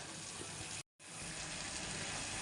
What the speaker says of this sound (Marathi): शाळेची कपडे धुवायची आहे ती कपडे धुवून घेऊया